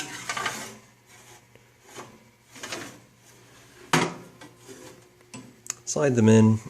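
A tray of poblano peppers slides into a home oven with scraping, rubbing metal sounds and a few sharp clunks, close and fairly quiet, ending in a louder knock near the end.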